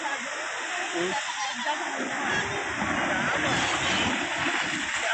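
Ocean waves crash and wash steadily onto the shore at Udayagiri beach, a continuous loud, close roar of surf and splashing water with voices faintly mixed in.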